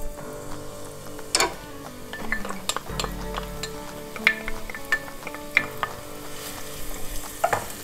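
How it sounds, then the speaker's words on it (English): Chopped shallot sizzling and being stirred in a hot soup pot, a steady frying crackle with scattered clinks of a utensil against the pot and no talking. "And then we'll add our shallot."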